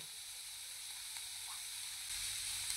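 Onion, garlic and masala spice paste frying in a little oil in a pan for Maharashtrian egg curry, a steady broadband sizzle that grows slightly louder toward the end, no voices.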